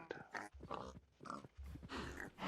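Pigs in Minecraft grunt repeatedly in short bursts, several close snorting oinks following one another with brief gaps between them.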